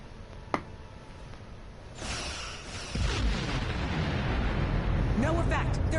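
Starship weapons fire in the Star Trek Online space game: a sharp pop, then a rising surge of booming, crackling blasts with whooshing sweeps that swell into a continuous loud barrage.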